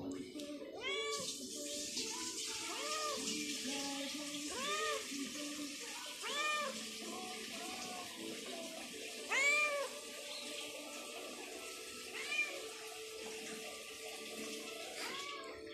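A pet cat meows repeatedly in a room, several clear, rising calls spread over the whole stretch, over steady running water from a tap and a faint human voice nearby.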